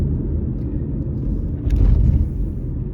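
A car drives along a Las Vegas street with a steady low road rumble and engine hum heard from inside, swelling briefly louder partway through.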